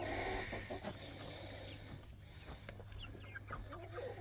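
Cornish Cross meat chickens, hens with young chicks, cluck and chatter softly in a coop at feeding time, scattered calls over a steady low hum, fairly quiet and close.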